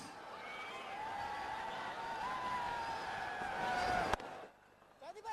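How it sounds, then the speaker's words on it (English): Roaring crowd in a cricket stadium during a BPL T20 match between Comilla Victorians and Barisal Bulls, a loud sustained cheer after a wicket with whistles and horns, swelling before cutting off abruptly. "Crowd going bonkers."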